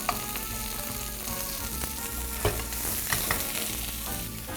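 Sausage and ham sizzle steadily as they are stir-fried in a hot pan, a dense close frying crackle with occasional scrapes and clinks of the utensil.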